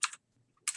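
Keys clatter on a computer keyboard in two short, crisp bursts of typing separated by a near-silent gap, close and fairly quiet.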